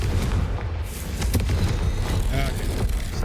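Confringo explosion spell cast in Hogwarts Legacy, a dull booming blast with a sharp burst near the middle over a steady low rumble.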